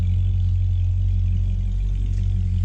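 A C6 Corvette Z06 engine with dual-mode exhaust idles steadily, a deep low rumble that holds even and continuous with no revving, fairly close.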